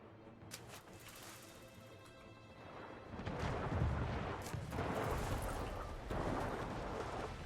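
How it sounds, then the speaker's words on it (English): Naval guns fire in the video game Anno 1800, a fleet's cannons booming in rough, rumbling volleys that build from scattered cracks into heavy, sustained blasts. "Guns are opening up."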